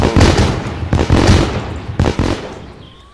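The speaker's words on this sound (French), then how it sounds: "le feu d'artifice" Fireworks burst in the driving game My Summer Car, a rapid series of loud, close booming explosions in three clusters that fade out with a trailing crackle.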